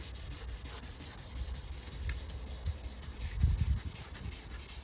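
Compound is rubbed by hand into a scratch on a car bumper, a faint, soft, repetitive scrubbing that swells briefly louder near the end.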